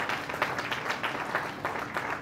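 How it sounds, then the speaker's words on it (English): Warm, sustained applause from an audience honoring veterans at a community event, a dense steady wash of many hands clapping with no pauses. "a very warm applause for all the veterans who have gathered here to join this event"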